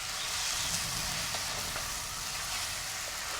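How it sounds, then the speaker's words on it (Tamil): Tinned fish curry stirred and fried in a pan, a steady close sizzle with faint scraping of the spoon, continuous and quiet with no talk. "கறியை விடாமல் இப்படி பிரட்டி விடுவோம்"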